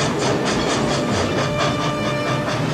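A steam locomotive from Back to the Future Part III runs steadily, its wheels beating out a rhythmic clickety-clack under a continuous hiss of steam, loud and close throughout.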